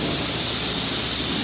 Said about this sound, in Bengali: ফোম মারতেছে।